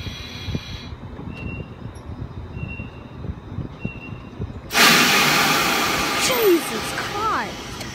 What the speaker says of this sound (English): Most of you people want to hear the terminating sound,